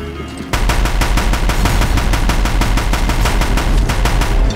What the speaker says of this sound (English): let's take the Deathbringer gun and finish this once and for all